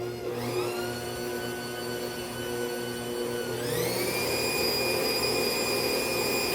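An electric mixer whirs through yellow cake batter with eggs added. Its motor gives a steady, close, tonal whine that rises to a higher speed about halfway through.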